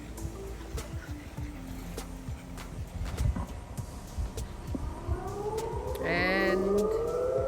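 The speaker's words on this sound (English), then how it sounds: "our Sirens come back on." Civil defense tornado sirens wail back on during stormy weather, a rising tone swelling in from a distance over a steady outdoor background, growing louder toward the end.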